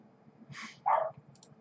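A dog barks indoors during a chess lesson, giving two short, close barks: a thin yelp followed by a louder, fuller bark over quiet room tone.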